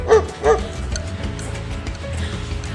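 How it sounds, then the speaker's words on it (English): A German Shepherd-type dog barks twice in quick succession near an icy, snow-covered road during a Washington snowstorm, followed by a steady low rumble. "I see a German Shepherd"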